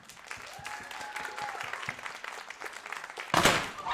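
Audience applause at a student union election night greets a lineup of four or five candidates, starting as scattered claps under voices and building to a loud burst near the end.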